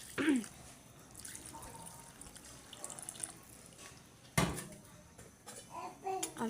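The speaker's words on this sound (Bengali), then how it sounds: "আরো পানি দিয়ে দিলাম।" Water poured from a container into a simmering fish curry in a pot, splashing and trickling in short bursts with a sharper pour midway, close and fairly faint.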